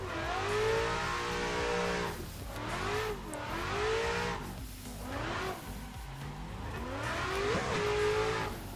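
A BMW in a sim racing game drifts with the engine revving hard, its pitch rising and falling in repeated swoops as the car slides, loud and continuous with tire noise underneath.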